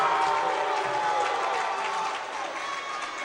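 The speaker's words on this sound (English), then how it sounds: "Crowd now starting to get into this one, trying to get the Quakers back" A crowd at a college volleyball match between Earlham and Trine applauds and cheers in a continuous wash of clapping and voices, with a commentator talking over it.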